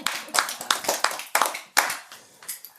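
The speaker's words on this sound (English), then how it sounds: "Clap it up one time." A studio audience at a talk-show taping claps in several short, uneven bursts of hand claps, fairly close and loud, with brief gaps between the rounds.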